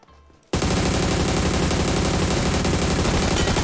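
Rapid, loud automatic gunfire from a video game shooter bursts in after a brief quiet moment and continues as a dense, unbroken stream of shots.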